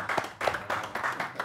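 Applause for a rapper at a rap show, a few distinct rhythmic claps at close range, sparse and moderately quiet rather than a full crowd roar.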